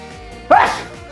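A single sharp sneeze bursts out mid-clip against quiet background, loud and close, trailing off quickly.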